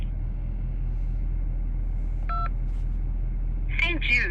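A single telephone keypad DTMF tone sounds briefly over steady line hum on an automated donation phone menu, followed by a short recorded voice fragment.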